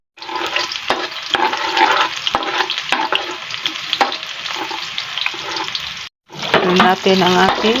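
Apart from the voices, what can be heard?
onion sautéing in cooking oil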